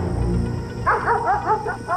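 A police canine unit dog at a shooting scene near woods gives a few short yips and whimpering barks over a low rumbling background, moderately close.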